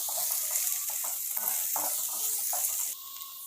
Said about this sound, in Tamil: இப்போ இதை வந்து பார்த்தீங்கன்னா நல்லா வதக்கிக்கலாம்